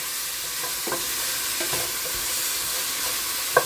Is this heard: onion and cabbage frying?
yes